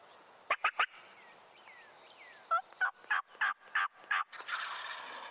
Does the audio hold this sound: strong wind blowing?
no